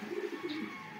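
A racing pigeon coos softly in a brief, low, throaty burble, faint and close, with a quiet background.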